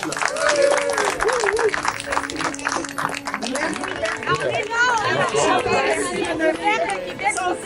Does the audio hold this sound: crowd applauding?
yes